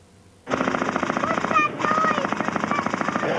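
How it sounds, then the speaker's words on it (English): A power saw suddenly starts up at a road traffic collision involving a heavy goods vehicle, rattling and buzzing loudly and continuously, with a brief dip in the middle before it resumes cutting. "It's only a saw."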